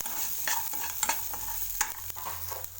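Close-up stirring in a pan: irregular scrapes and clicks of a spoon over a soft, steady sizzle of ginger frying.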